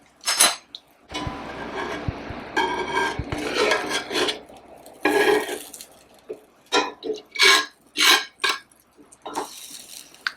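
Metal pan handled on a stovetop while apple pancakes made from freshly milled flour cook, with rasping scrapes, clanks and knocks in irregular bursts, fairly close and moderately loud, broken by brief pauses.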